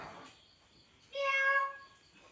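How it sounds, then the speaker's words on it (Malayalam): A domestic house cat gives a single short, clear meow up close in a quiet indoor room, with faint background noise before and after. "പൂച്ച, നമ്മുടെ വീട്ടിൽ 2 പൂച്ചയുണ്ട്."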